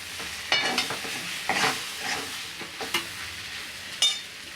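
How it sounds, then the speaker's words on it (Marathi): Sweet potato halwa stirred in a pan after sugar goes in, a spoon scraping and stirring in several short bursts over a soft sizzle, close and moderately loud, with no one talking. "चमचा साखर घालूया पुन्हा मिक्स करून घ्यायचं आहे"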